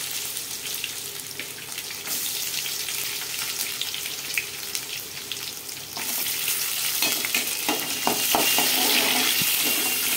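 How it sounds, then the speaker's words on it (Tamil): Garlic sautés in oil with popped mustard seeds, cumin and fenugreek in a steady close sizzle, the sound growing louder and busier halfway through, with crackles and stirring scrapes near the end and no speech. "பூண்டு நல்லா வதங்கி வந்துடுச்சு"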